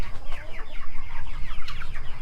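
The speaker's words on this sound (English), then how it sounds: "The chickens are locked up in there eating." Chickens cluck busily while eating corn in a shut homestead coop, a close, loud, overlapping chatter of quick calls with one sharper squawk near the end.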